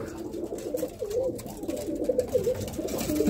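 Birmingham Roller pigeons kept as breeding pairs give soft, repeated cooing calls close by, low and warbling over a steady background murmur.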